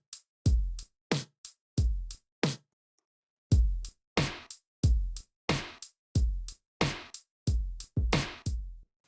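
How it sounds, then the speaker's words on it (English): A series of punchy snare hits, a compressed and saturated snare sample layered with a percussive hit, sharp attack and short decay, roughly a dozen strikes in an uneven rhythm with brief silences between them. "here I took a snare sample, added compression and saturation, and layered it then with this percussive"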